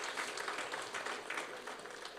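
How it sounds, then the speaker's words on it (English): An audience at an architecture exposition applauds in a steady, dense wash of clapping heard from a middle distance, with no talk over it. "You can applaud more than that."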